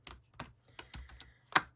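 Oracle cards being shuffled by hand, a string of short papery riffles and taps at an uneven pace, close and fairly quiet with no talk.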